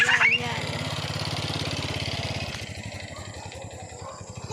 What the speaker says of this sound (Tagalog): Ay, meron motor guys.